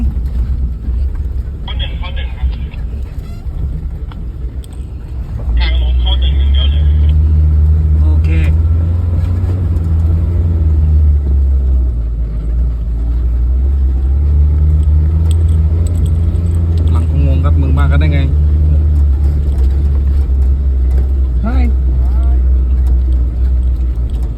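A Suzuki Jimny engine drones low and loud in second gear as it climbs a hill, a steady close rumble that swells after a few seconds, with people talking over it and some rattling inside the cab.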